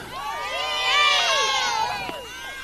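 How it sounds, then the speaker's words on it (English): A large crowd at a BMX Canada Harbour City Nationals race event cheers and screams loudly, many overlapping high voices swelling to a peak and then easing off, with no single voice standing out. "Cheer, make some noise."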